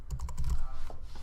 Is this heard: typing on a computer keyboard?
yes